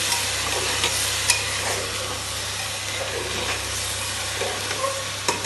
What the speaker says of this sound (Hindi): थोड़ी देर इसको भूनेंगे